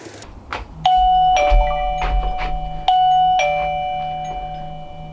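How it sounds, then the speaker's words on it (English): An Arkmiido external chime for a wireless video doorbell rings out twice in clear ding-dong tones. Each ring is loud and close and leaves a long ringing tail, with a faint low hum underneath and no talking. "I'll quickly run outside, ring my own doorbell again"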